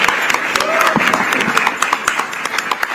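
A celebrity awards ceremony audience breaks into applause and cheering, a dense run of clapping that lasts throughout, with a brief voice heard underneath.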